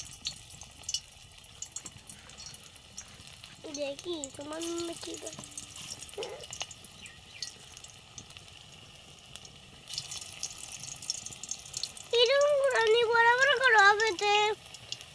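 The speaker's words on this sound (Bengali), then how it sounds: "তেল গরম হয়ে গেছে এবার দিয়ে দিচ্ছি এগুলো" Marigold flower pakoras drop into hot oil and fry with a soft, steady sizzle that grows somewhat louder later, under people talking.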